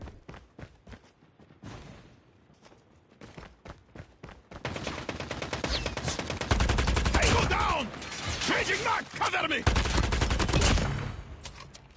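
Rapid gunfire from a Call of Duty Mobile match, sparse single shots at first, then dense sustained automatic bursts with loud, close thuds. Talk is heard intermittently throughout.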